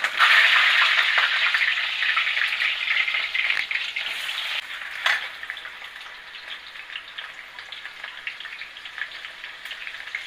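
Potato pieces seasoned with turmeric and salt fry in hot oil, giving a loud, steady sizzle that is strongest at the start and eases slightly, with a few faint scrapes and no talking.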